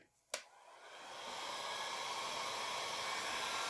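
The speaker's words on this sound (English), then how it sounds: "I'm using a heat gun. You can use an embossing gun, but I'm using a heat gun" A heat gun blows on embossing powder on a tumbler. A sharp click starts it, then a steady close rushing hiss builds and holds without a break.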